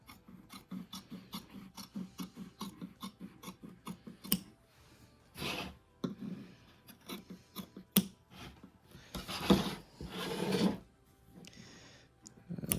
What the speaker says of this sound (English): now I'm going to come back and just cutting on that line, on that stitch line.